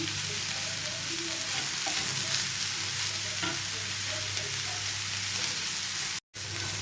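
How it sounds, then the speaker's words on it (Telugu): Mint leaves and peanuts fry in a pan with a continuous sizzle and occasional stirring scrapes, steady and close, heard alone without voices. "పుదీనా కూడా ఈ విధంగా ఫ్రై చేసుకోవాలి"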